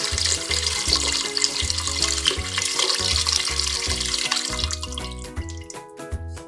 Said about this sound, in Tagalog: Tapos sa buto ng atsuwete ko pa dadaanin yung tubig.